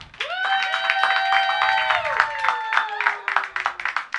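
Comedy show crowd applauding in a dense, sustained burst of hand clapping that tapers off over a few seconds, with a warm-up host's voice running over it.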